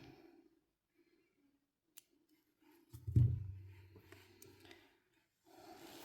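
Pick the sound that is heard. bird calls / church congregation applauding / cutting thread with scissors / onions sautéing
cutting thread with scissors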